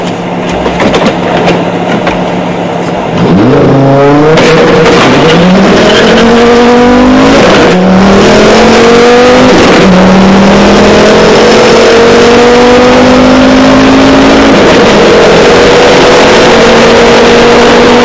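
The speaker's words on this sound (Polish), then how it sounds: "I zrobimy jeszcze dźwięki motorka." A loud motorbike engine starts up and revs repeatedly, its pitch climbing through several rising sweeps before holding a steady high whine.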